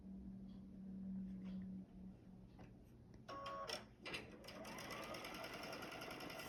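A sewing machine stitches a quarter-inch quilt seam, starting with faint clicks and handling noises, then whirring into a continuous close, even run of stitching.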